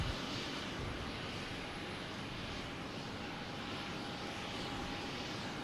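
A KLM airliner rolls along the runway at Boston Logan Airport, its engines giving a steady, distant broadband roar with a faint whine that holds constant throughout.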